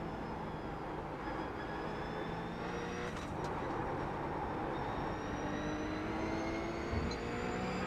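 Race car engine in the sim racing game iRacing, a steady droning roar with rising pitch as gears are held, continuous and fairly loud throughout with no talk.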